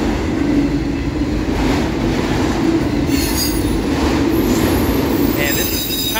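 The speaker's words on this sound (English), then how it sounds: "this is kind of in a lame autorack train." A long CSX autorack freight train rolls past close by, wheels rumbling and squealing on the rails in a continuous loud roar with steady clattering.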